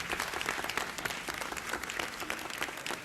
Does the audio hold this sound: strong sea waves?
no